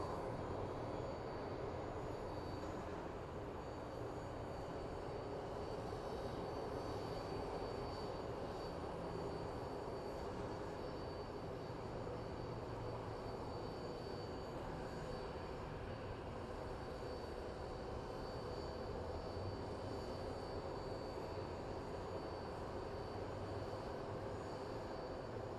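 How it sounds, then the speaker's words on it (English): A British Airways Airbus A350 airliner at Phoenix Sky Harbor International Airport gives a steady, distant jet rumble that holds evenly throughout with no speech. "It's an Airbus A350."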